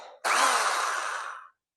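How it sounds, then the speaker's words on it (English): A 1973 Black & Decker electric drill whirs loudly for just over a second, starting abruptly and cutting off, alone with no talking. "Got my dad's Black & Decker electric drill from 1973."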